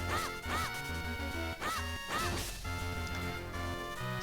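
Quacking from masked duck enemies in The Legend of Zelda: The Minish Cap, several repeated nasal calls in quick bursts over continuous game music.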